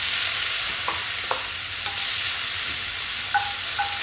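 Vegetables for vegetarian japchae, with pepper and salt, sizzle steadily in a hot pan, a loud close hiss with a few sharp clinks of a utensil stirring against the pan.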